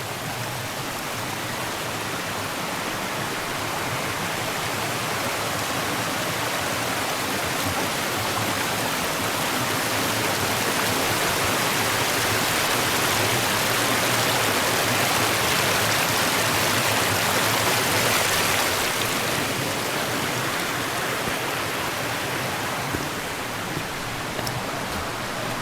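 A creek flows right beside a narrow stretch of Davis Creek Trail near Greenville, Tennessee, in the Cherokee National Forest, giving a steady, loud broadband rush of moving water that continues alone and without a break.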